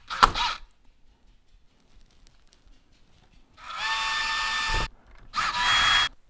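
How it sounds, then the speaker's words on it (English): A cordless power drill drives screws into the mounting brackets of a smart door lock, giving a short opening whir, a quiet gap, then two sustained buzzing runs close to the mic. "then we'll go ahead and tighten down these screws"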